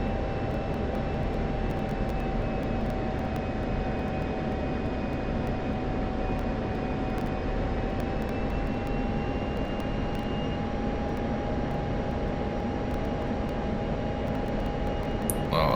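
Steady, loud jet engine roar of an F-16 Viper in the DCS flight simulator, climbing at full power with a constant whine and broad rumble that holds without a break for about sixteen seconds, with no voices.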